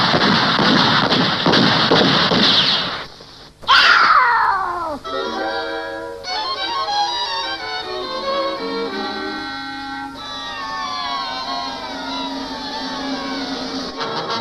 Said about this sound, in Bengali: গুলির শব্দ শুনলাম।